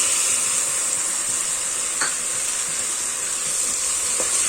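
Green peas and chopped tomatoes frying in hot oil over high flame for egg biryani: a loud, continuous close sizzle with faint scraping stirs and no talking.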